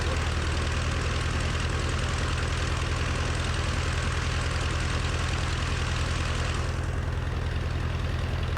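A small propeller airplane's engine drones steadily from inside the cabin while sitting before takeoff, a constant low hum that shifts slightly near the end.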